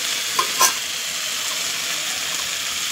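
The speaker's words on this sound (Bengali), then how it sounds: "একটু ভাজা হয়ে যাক" Food fries with a steady hiss in a pan as it is stirred, giving a close, continuous sizzle with a couple of brief scraping clinks near the start.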